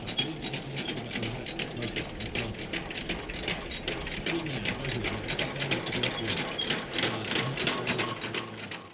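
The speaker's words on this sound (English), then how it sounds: "the right-hand lever puts the beaters and the conveyor chain in gear" Beaters and conveyor chain of a horse-drawn manure spreader run in gear outdoors, giving a continuous rapid mechanical clatter with dense rhythmic ticking that stays steady throughout, alongside faint crowd murmur.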